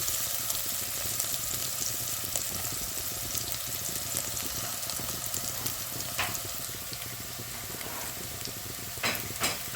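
Garlic, ginger and onion fry in a pan with a dense, continuous sizzle that stays steady and close throughout, dotted with faint pops and a few soft stirring clinks, no speech.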